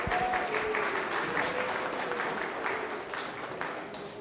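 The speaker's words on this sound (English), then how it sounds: "So let's give her a big round of applause." An audience at a Halloween concert applauds, a dense, steady wash of clapping from many hands that holds for several seconds and then slowly tapers, with no one talking over it.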